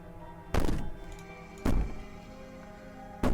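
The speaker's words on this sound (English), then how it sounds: "Maybe the banging and wailing will stop if you just don't pay attention to it." Three heavy, dull thuds of banging on a door in the video game Slay the Princess, each strike separated by a second or more of quiet, with no talking.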